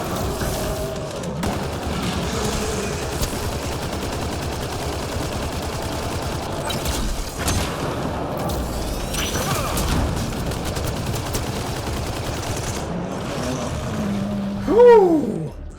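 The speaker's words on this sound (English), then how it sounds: "I'm glad I brought this gun." Sustained automatic gunfire from a weapon in Mass Effect Andromeda, a dense unbroken rattle over busy game sound effects, ending with a brief loud swell and a whooshing tone.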